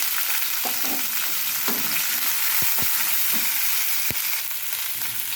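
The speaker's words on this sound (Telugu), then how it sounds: "తాలింపులు చెట్టుపట అన్నప్పుడు ఈ మొత్తం వేసేద్దాం" Onion, chilli, ginger and carrot hit hot tempering oil with a loud, continuous close-up sizzle, broken by a few dull knocks of a stirring spoon against the pan.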